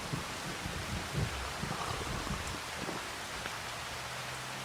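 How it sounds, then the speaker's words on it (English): Rain falls in the Farming Simulator 25 video game as a continuous, dense patter with occasional heavier drops, steady and moderately loud with no speech. "it's raining out"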